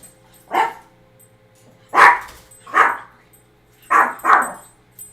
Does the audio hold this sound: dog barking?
yes